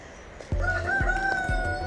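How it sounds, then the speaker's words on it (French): A rooster crows loudly and close on a farm in the morning, one drawn-out call over low thumping background noise. "des coqs et des poules toute la nuit qui gueulent"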